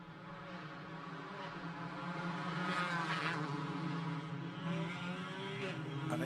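Formula 4 race cars circulate at the Macau Grand Prix behind a BMW safety car, a moderate, steady engine drone from several cars that swells slightly as they pass, heard from a distance.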